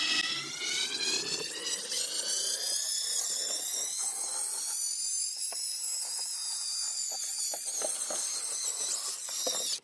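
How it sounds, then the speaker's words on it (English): A brush attachment on a power drill scrubbing degreaser-coated metal during rock light installation on a 2007 GMC Yukon, a high steady whine that rises in pitch, with scratchy bursts of scrubbing near the end. "And then we're gonna give this a little scrub with a brush drill attachment."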